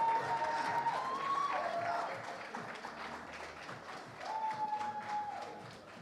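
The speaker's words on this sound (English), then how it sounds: "I want you to clap for every single one of our participants this evening" Audience at a Leopards Lair 2024 entrepreneur event clapping for the participants, a moderate, fairly distant round of applause with a couple of cheers that eases off and then swells briefly.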